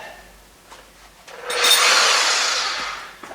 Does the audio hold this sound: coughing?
no